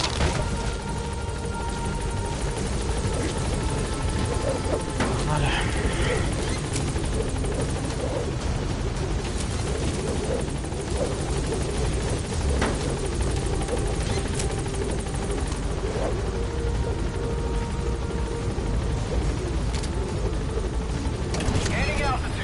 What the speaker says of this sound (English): Board the chopper when you're ready for a mission.